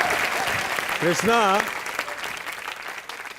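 A studio audience at a TV comedy show claps in a dense, steady burst that slowly fades, and a voice briefly calls out over the applause.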